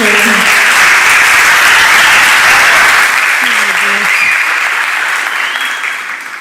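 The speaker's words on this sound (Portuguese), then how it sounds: "Palmas para o Vitor." Loud, dense applause from a graduation ceremony audience fills the space for several seconds, steady and close, with a voice briefly audible under it, then slowly tapering off at the end.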